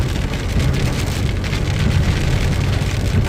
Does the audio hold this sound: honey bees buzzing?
no